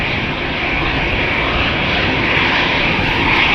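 A 22-year-old Delta Airbus A330-300 at Amsterdam Schiphol, its engines a loud, steady broadband roar with a hissing jet wash that builds slightly and holds throughout, with no voices.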